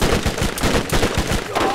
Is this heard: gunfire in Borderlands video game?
yes